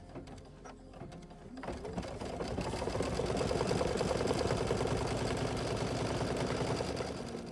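Embroidery machine stitching leaves in green thread for a zipper pouch, starting with a few slow clicks and then settling into a rapid, steady mechanical whirr and patter, close and continuous.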